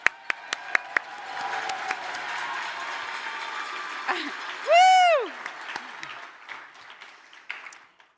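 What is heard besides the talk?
audience applause at an awards ceremony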